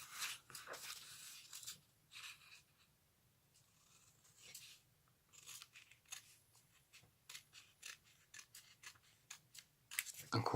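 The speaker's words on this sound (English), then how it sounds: "a pair of scissors is what I'm going to need because I've got to cut this up" Scissors snip through material while a card mat is being made, a quiet, close series of irregular cuts and short runs of snipping with pauses between them.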